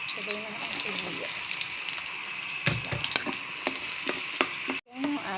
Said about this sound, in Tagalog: Ating ibigisa na rin.